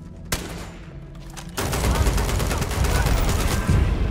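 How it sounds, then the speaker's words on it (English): Gunfire in the sci-fi video game Starfield, a sharp shot followed by a steady roar of sustained automatic fire that grows louder partway through, dense and continuous. "Whom are they shooting against?"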